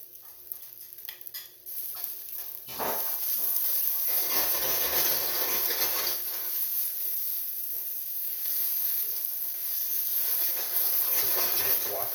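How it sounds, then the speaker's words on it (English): Cold noodles for beef lo mein drop into a hot pan with cooked garlic and break into a loud, steady hiss and sizzle that carries on to the end after a quieter opening. "Let's get our noodles in."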